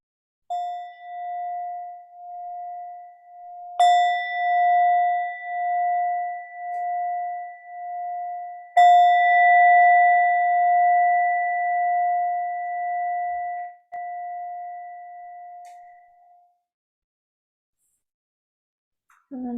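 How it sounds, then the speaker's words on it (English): A meditation bell rings three times at the close of a practice session, each strike a clear, sustained tone that lingers and overlaps, the last ring slowly fading to silence with no talking. "In a moment or so, you'll hear the sound of a bell"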